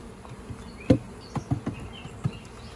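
Honeybees at an open beehive, a soft steady buzz with several closer bees passing by in short, louder swells.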